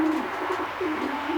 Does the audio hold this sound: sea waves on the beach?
no